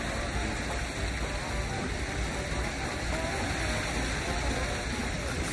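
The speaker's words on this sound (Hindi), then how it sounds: "ये पानी की जो आवाज़ है आपको भी आ रही होगी" A stream or waterfall rushes steadily and loudly at a peaceful outdoor spot in Ukraine, a dense, unbroken wash of flowing water that stays even throughout with no voices over it.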